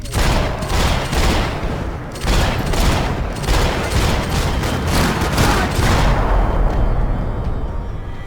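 Gunfire from the video game Max Payne 3 comes as loud, rapid bursts of shots in several volleys separated by brief gaps, close and heavy, with no talking.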